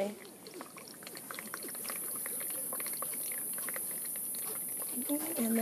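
Raw goat milk kefir is pushed through a strainer with a spoon, giving soft wet trickling and bubbling sounds that build gradually. A person talks over it.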